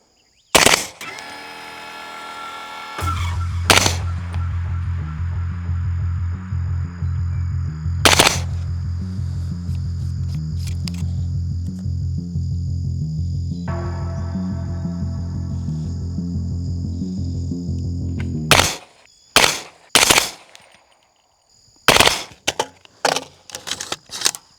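Suppressed .300 Blackout rifle firing subsonic 220gr Sierra MatchKing rounds: sharp isolated reports near the start and a cluster of closely spaced shots toward the end, separated by a long steady mechanical hum.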